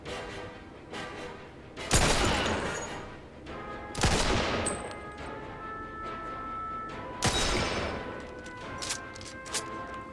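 Gunfire in the Mafia 2 video game: three loud, sharp gunshot blasts spaced a couple of seconds apart, each ringing out over a steady background of game ambience.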